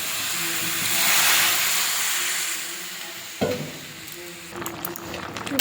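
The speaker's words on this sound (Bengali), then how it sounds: "এবারে জল দিয়ে দেবো।" Cauliflower, potato and prawn curry sizzles steadily in a pan, then water is poured in, bringing a sudden sharp burst of hissing and bubbling that settles into a softer simmering sizzle.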